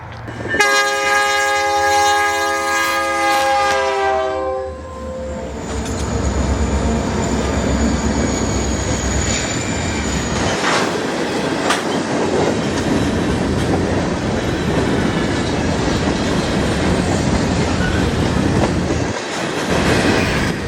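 Freight train hauling cars with old DM&E markings through Black Hawk toward Spearfish, South Dakota: a loud multi-tone horn blast opens, then steady rumbling and clattering wheels build and continue close by.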